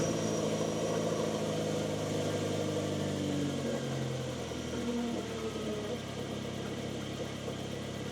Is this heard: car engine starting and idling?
yes